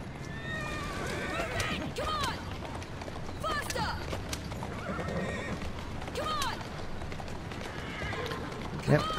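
In Assassin's Creed Syndicate, a horse-drawn cart moves through Victorian London with steady clip-clopping hooves and repeated whinnies and neighs, all over a busy street ambience.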